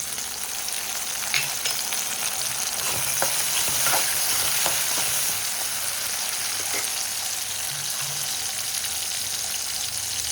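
Garlic frying in a hot pan for a Karnak kizhangu kulambu, giving a continuous hissing sizzle with occasional light stirring clicks throughout.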